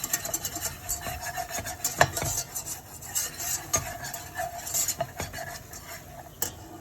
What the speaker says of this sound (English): Make sure y'all mix this all together and no lumps in there